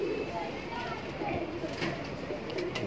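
Kaldume and Allahbadi pigeons, big-size birds offered for sale, give soft repeated coos close by while someone talks steadily over them.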